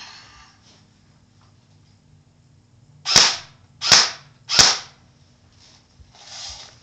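An M4 airsoft gun fires three sharp, loud cracks in quick succession, each under a second apart, close by against a quiet background.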